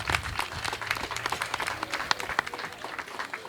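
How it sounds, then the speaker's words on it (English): Audience at a water project commissioning ceremony applauding, a sustained patter of many hands clapping at moderate distance, fairly quiet and continuous. "I'm sure we should have a hand of applause for that."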